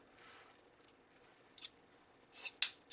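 A few quick snips of scissors cutting through ribbon for a bow, soft and close, with a sharper cut near the end.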